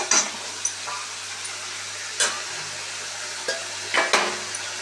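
Pointed gourd cooking with ground spice paste in a wok, giving a low, steady sizzle with occasional scraping strokes from a spatula and a faint background hum, close and fairly quiet, without any voices.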